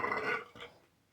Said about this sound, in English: I just burped.